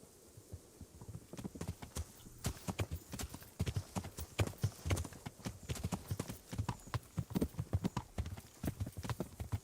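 Horse hooves clip-clop in a steady, brisk rhythm in Kingdom Come: Deliverance, several horses riding together at a trot, loud and close, with faint background hum and no talk.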